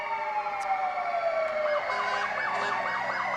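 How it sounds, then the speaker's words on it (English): An ambulance siren wails in a small-town Independence Day parade, a steady tone sliding down and then breaking into a rapid rising-and-falling yelp, moderately loud with a motor rumble beneath. "Our ambulance."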